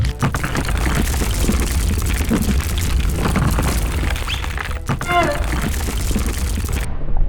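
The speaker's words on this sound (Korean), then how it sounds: "화산이 폭발했고 뜨거운 용암이 도로 위로 흘러내렸습니다" An animated volcano eruption: a loud, rumbling explosion roars continuously with heavy booming low end and crackling debris, dense and sustained throughout.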